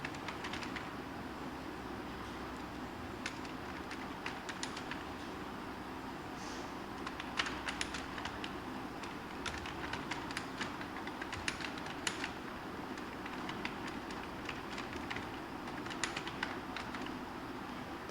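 Typing on a computer keyboard in MS Word 7.0, with scattered runs of light key clicks over a steady low background hum, moderately close, and no talk.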